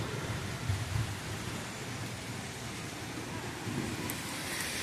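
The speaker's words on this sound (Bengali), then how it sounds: "বৃষ্টি হচ্ছে আর এদিকে দেখো রোদও উঠেছে" Heavy rain pours down during a sun shower, a dense, steady hiss with a deep rumbling undertone throughout, close and fairly loud, and no clear talk.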